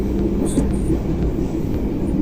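Steady low rumble of a KRL electric commuter train in Jakarta, with a faint high electrical whine and occasional squeaks, close and loud.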